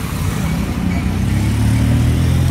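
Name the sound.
city traffic noise, cars nearing downtown Kampala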